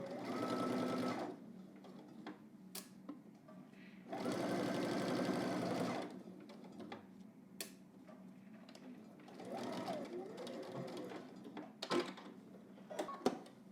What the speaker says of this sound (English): let's head to the machine. We're going to go ahead and do a regular stitch starting from one dot to the other dot